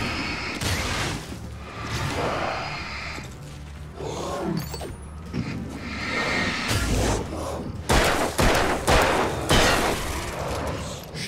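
Revolver gunfire in the video game Alan Wake, a series of sharp booming shots scattered through the scene, loudest in a dense burst toward the end, set against constant in-game noise.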